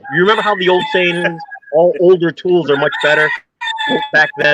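A phone notification tone that sounds like a rooster crowing goes off in bursts, interleaved with someone talking close by.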